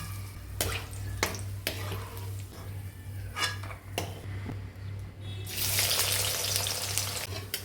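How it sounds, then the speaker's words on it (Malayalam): Onions frying in ghee sizzle steadily in a pan, with several sharp utensil clicks and scrapes early on and a louder burst of hissing toward the end. "അതാ നമ്മളെ ഉള്ളി ഇതാ ഇവിടെ പൊരിച്ചു പോരാണ് കേട്ടോ"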